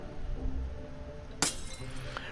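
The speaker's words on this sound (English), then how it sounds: "the frog sends the bottle spinning across the cell. It shatters into pieces against the wall." A glass bottle shatters against a cell wall in the video game Ghost of a Tale, one sharp bright crash with tinkling debris, heard over a low ambient background.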